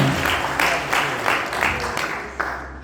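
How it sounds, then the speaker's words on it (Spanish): Congregation applauding during a Spanish-language church service: a short burst of dense, steady clapping that stays loud and even throughout. "Un aplauso al Señor."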